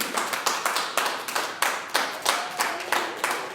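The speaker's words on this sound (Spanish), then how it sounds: "Denle un aplauso, por favor." Church congregation claps in a loose, fairly even rhythm, a dozen or so distinct close claps with no talking.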